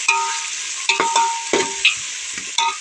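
Potatoes and tomato sizzle in a hot pan while a utensil stirs and scrapes in several sharp strokes.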